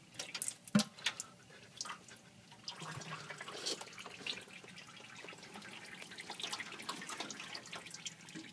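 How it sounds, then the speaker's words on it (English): Used motor oil drains from a car engine's drain plug into a pan, a steady liquid trickle and splash that runs throughout after a sharp metallic knock near the start. "we'll let the oil drain out of the motor"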